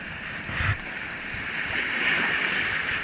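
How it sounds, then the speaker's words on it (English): Ocean waves surging against coastal rocks at a fishing spot, a steady loud wash of surf with a swell building midway, mixed with gusty wind noise and no voices. "Size of these waves though."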